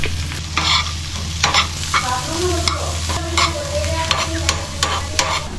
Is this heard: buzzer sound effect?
no